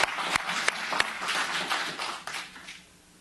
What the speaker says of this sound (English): Yeah, I'm going to have to clap for that.